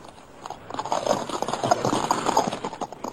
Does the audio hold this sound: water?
no